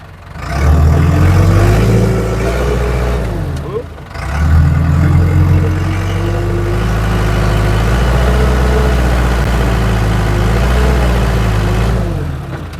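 A loader's diesel engine runs loud and close while it pushes down a dead tree, a steady heavy rumble with a brief dip near the start and rising revs under load, and someone may speak briefly over it.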